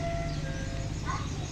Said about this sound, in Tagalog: Ingay ng truck na yun.